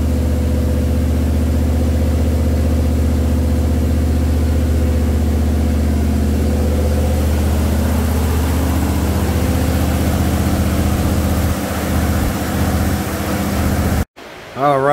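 A Jeep CJ5 engine idles steadily at about 1850 RPM during break-in after its first start, a low continuous rumble with a brief cut near the end.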